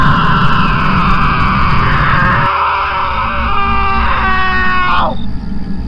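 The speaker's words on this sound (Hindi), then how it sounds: "उनकी चीख पूरे गांव में गूंज उठी।" Villagers in an animated horror story about a haunted grave let out a long, loud, wavering scream that slides downward and then cuts off, with rumbling background music underneath.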